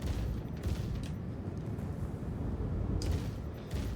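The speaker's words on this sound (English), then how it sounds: "We can hear the deadbolts firing" Deadbolt guns firing in Star Citizen, a dense, steady roar of heavy cannon fire that sounds like .50-calibre rounds, continuous and loud throughout with no clear gaps between shots.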